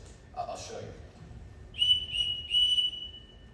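A whistle is blown as a signal to call the children in a live stage performance of The Sound of Music: three short, shrill blasts in quick succession, preceded by a faint rustle.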